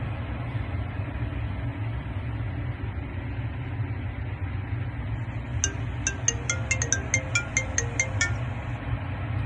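A phone rings after a number is dialed, a short series of bright electronic trills arriving partway through over a constant low engine-like rumble, with no talking.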